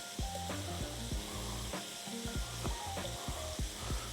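Shrimp frying in a pan give off a steady, close sizzle that runs throughout, with rhythmic music playing alongside.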